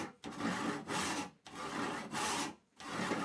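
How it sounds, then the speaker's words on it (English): A hand saw resaws a wooden board along its centre line in long, steady strokes, a rasping cut repeated about four times with brief pauses between strokes, close and alone. "I use the centre line as a guide to saw the wood into two equal pieces."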